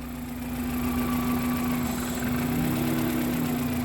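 A car engine idles steadily up close while the clutch is engaged, a constant low hum with slight vibration throughout and no talking.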